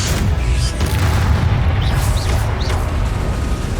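Confringo fire spell exploding in Hogwarts Legacy, a continuous loud rumbling boom with crackling bursts, dense and close, with small whistling effects over the roar.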